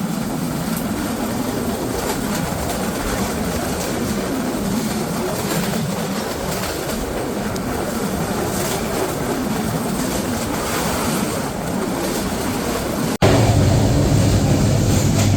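The Shimanta Express passenger train from Khulna, Bangladesh, gives a steady, loud rolling rumble that continues without a break, then shifts abruptly to a heavier, harsher rumble near the end, with no voices.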